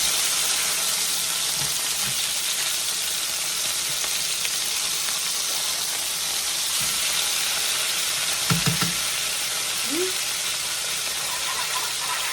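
A golden-brown pork chop sizzles steadily and loudly in an oven pan after being flipped, with a few knocks and scrapes of utensils, briefly under low speech.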